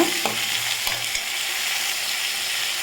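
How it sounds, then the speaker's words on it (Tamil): Tomatoes sautéing with onions in a pan for appapoo kuzhambu, a bright, continuous sizzle and hiss close up, with a few soft scraping stirs near the start and no talking. "இப்போ நம்ம தக்காளி சேர்த்துக்கலாம் நல்லா குழஞ்ச பழமாக சேர்த்துக்கோங்க சேர்த்து நல்லா வதக்கிக்கோங்க"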